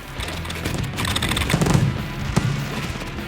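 Fireworks show in the Congo firing at a launch site, a dense run of crackling bursts and thumps close by, with a few sharper bangs standing out over continuous roar and crackle.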